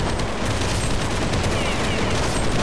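Dense, continuous rapid gunfire from the video game Counter-Strike 1.6, in a zombie base builder mode, a loud unbroken fusillade of overlapping shots with no pauses.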